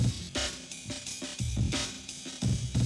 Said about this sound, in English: there's just some EQing and some distortion on this Amen break.